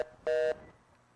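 Telephone line tones during an open call to a broadcast: a short beep, then a longer steady tone of about a quarter second. Both are moderately loud and clean, with faint background hiss and no talk.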